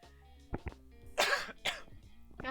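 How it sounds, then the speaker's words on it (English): Several harsh coughs and throat clearing up close, in a few separate bursts with short pauses between them. "Sorry I've been coughing so much."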